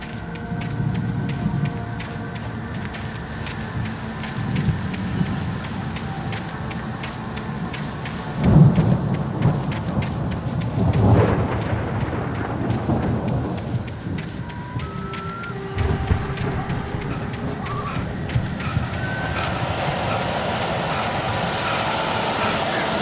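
Thunderstorm from the video game Alan Wake: continuous heavy rain hiss with deep thunder rumbles swelling around the middle, a low roll later on, and a faint voice or two murmuring beneath the downpour.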